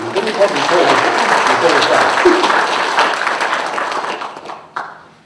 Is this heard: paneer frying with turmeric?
no